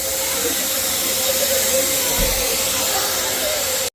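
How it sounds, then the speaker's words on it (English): A small snow machine blows artificial snow with a steady, broad hiss and a faint tonal whine, continuous and fairly close throughout. "Look at a little snow machine."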